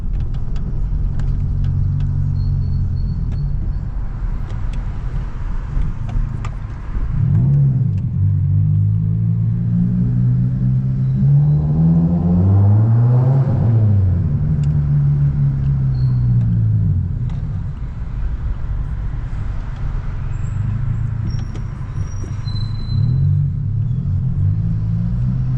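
A car with a newly fitted aftermarket exhaust drives steadily, its loud rumbling drone rising and falling through gear changes and throttle swells, heard from inside the cabin.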